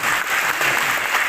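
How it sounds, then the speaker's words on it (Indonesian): Applause from an audience at the launch event for the guruPRO teacher app held with Guru Merdeka Profesional, a dense, steady clapping that stays loud and even throughout the short burst. "tepuk tangan"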